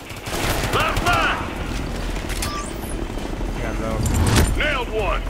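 A helicopter's steady rotor drone mixes with bursts of rapid machine-gun fire during a Ghost Recon Future Soldier Guerrilla wave on the Office map, loud and continuous, with voices talking over it.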